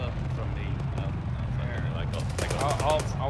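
Gunfire rattles in the military shooter Arma 3, a rapid burst of shots toward the end over a rumbling vehicle-like drone, with voices talking in the clip.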